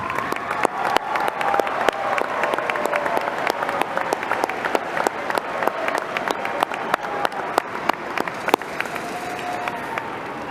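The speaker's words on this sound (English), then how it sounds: "Please stand and give them a big, heartfelt round of applause." Class of 2025 high school graduation audience applauding, a long sustained round of clapping from a large crowd with sharp individual claps poking through and faint cheers in the mix.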